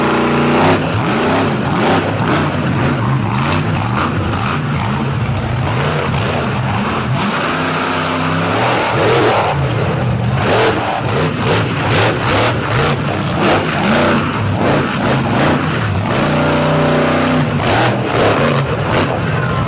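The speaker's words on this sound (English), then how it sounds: "You can hear this engine is not very happy." A race truck's engine runs rough and unsteady at a drag racing event, a loud continuous mechanical roar with uneven revving and sputtering pulses throughout, no talk over it.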